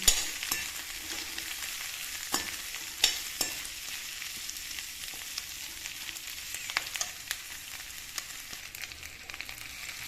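Onions frying in a pan for a vegetable dish, a steady soft hiss of oil with occasional crackles and a few light stirring clicks, fairly quiet and without speech.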